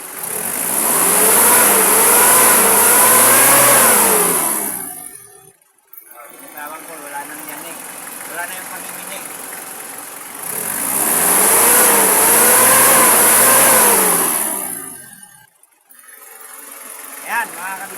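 A diesel engine whose fuel hose is being cleared, revved twice as the throttle is pumped, each rev a loud rising and falling roar with whining harmonics, separated by a lower running stretch where the engine nearly dies.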